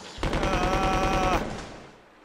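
A submachine gun in Resident Evil 2 fires one sustained rapid burst, loud and dense with tightly packed shots, then cuts off into a short fading tail.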